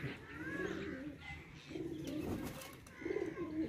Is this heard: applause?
no